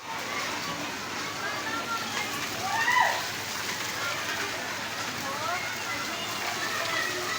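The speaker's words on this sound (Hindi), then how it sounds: "बहुत अचानक से अच्छी सी बारिश शुरू हो गई है नारायणपुरा में" Sudden heavy rain in a street in Narayanpura, Karachi, a steady broadband hiss of falling water with people talking faintly over it.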